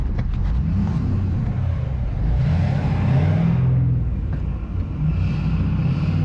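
A truck engine with a blown transmission revs in reverse, a loud, close, low rumbling drone that swells and eases, with a rising rev near the middle.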